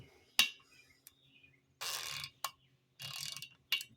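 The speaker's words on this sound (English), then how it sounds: "Put your ratchet on there, which I'm using the good old Matco." A Matco ratchet clicks as it turns a socket on a tight exhaust stud, giving short bursts of rapid pawl ratcheting separated by sharp metallic clacks and pauses, close and crisp with no talking.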